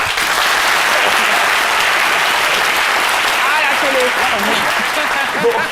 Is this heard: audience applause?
yes